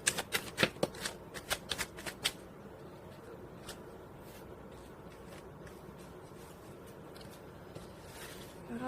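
Tarot cards being shuffled by hand: a quick run of crisp riffling flicks and snaps in the first couple of seconds, then a quiet room with only faint rustles.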